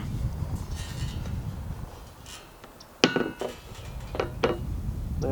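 A Falcon roof rack is set down onto the roof of a fifth-generation Toyota 4Runner: one sharp metallic clunk, then a few lighter knocks and rattles over a faint background hiss, with no talking.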